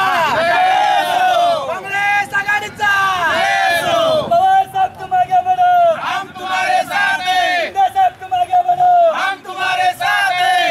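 Youth Congress workers celebrate an MLA's election victory at a city square, a crowd loudly chanting and shouting slogans in rhythmic bursts, with repeated call-and-response cries close by and constant overlapping voices.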